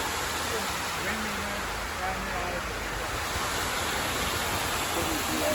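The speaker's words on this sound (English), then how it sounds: "So here's looking straight down into the spillway." Water rushing down the Linesville Spillway at Pymatuning Lake, Pennsylvania: a steady, dense roar of falling water heard from directly above, continuous and unbroken for the whole stretch.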